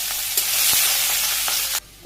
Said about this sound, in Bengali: এই তেলে আমি জিরা দিয়ে দিলাম, পেঁয়াজ কুচি দিয়ে দিলাম